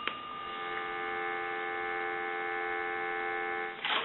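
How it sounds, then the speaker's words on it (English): A steady, continuous telephone dial tone hums from a rotary desk phone, unbroken for several seconds apart from small clicks at the start and end. "I want to give you some dial tone."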